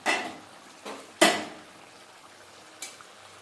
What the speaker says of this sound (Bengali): এবার ঢাকনাটা খুলে একটু দেখে নেব।